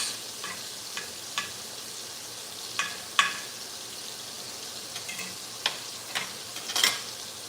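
Onions frying in hamburger-steak grease give a continuous soft sizzle while a spatula scrapes the pan in repeated sharp, close strokes spread across the stretch.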